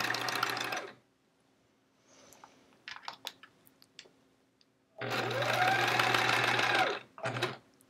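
A sewing machine stitches rows of a chevron quilt in two loud, steady whirring runs, with quiet clicks and handling noises between them and a short final burst.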